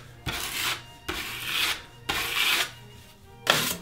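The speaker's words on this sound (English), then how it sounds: "I'm just gonna shave that off with my blade" A blade shaves dried spackle off a bedroom wall in four distinct rasping scrapes, each close, scratchy and lasting about half a second, with short pauses between and no voices.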